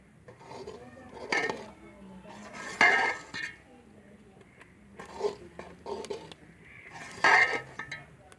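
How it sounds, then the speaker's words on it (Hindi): A spoon stirring kadhi in a cooking pot, with several clinks and metallic scrapes against the pot in irregular bursts over a quiet background. "इसको अच्छी तरह से हिलाएंगे और तकरीबन 2 मिनट तक इसको पकाएंगे"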